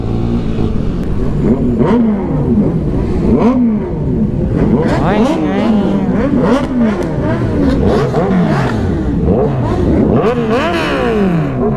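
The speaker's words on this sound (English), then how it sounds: "That, my friend, is the Ninja 1000." Kawasaki Ninja 1000 motorcycle at a superbike riders' meet in Shillong, its engine revving loudly and repeatedly up and down close by, with voices underneath.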